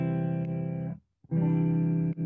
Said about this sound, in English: Just play a normal C.